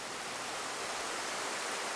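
Orhun Waterfall in Mongolia pours in a steady broadband rush of falling water, loud and unbroken with no voices over it.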